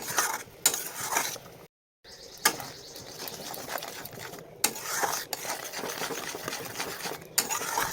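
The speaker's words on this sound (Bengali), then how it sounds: "আমি দিয়ে দিলাম সর্ষে লঙ্কা বাটা, হলুদ লবণ দিয়ে ভালোভাবে নেড়ে চেড়ে নেব" Mustard-chili paste, turmeric and salt get stirred in a pan, with scraping and clinking of a spoon against metal repeating irregularly over sizzling, and one short cut-out partway through.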